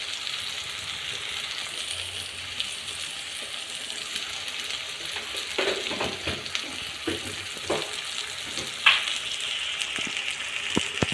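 Egg and dried-fish curry with chili powder and salt being stirred in a pot, a soft continuous sizzle with occasional scrapes and clinks of a spoon, no talking.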